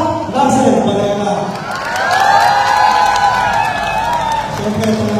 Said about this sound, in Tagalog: Isang malakas na palakpakan na may kasama, hiyawan